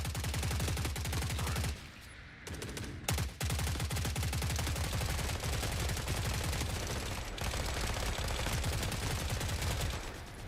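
Rapid automatic gunfire in the shooter game Forever Winter, loud sustained bursts of dense shots with brief pauses between volleys.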